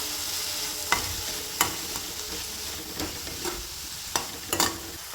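Amaranth greens stir-fried in oil, a soft ongoing sizzle punctuated by regular clinks and scrapes of a spoon against the pan.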